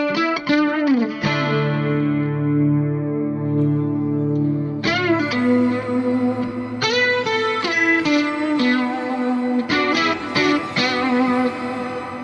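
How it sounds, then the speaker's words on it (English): Guitar played through a shimmer reverb effect in Amplitube, with chorus ahead of the reverb, producing sustained, washy chords with bright octave-up shimmer tails; several strummed chord changes ring out continuously and loudly with no talking. "And there you have Shimmer Reverb in Amplitube."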